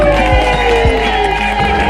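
Guests at a civil wedding ceremony applaud and cheer for the pastor, a close burst of crowd clapping and whoops layered with a lingering voice over the noise.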